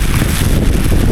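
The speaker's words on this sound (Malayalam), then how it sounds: "കാറ്റും മഴയും" Strong wind buffets the microphone during a rainy island boat ride near Madaveli, a loud, continuous rumbling gust noise with no voices.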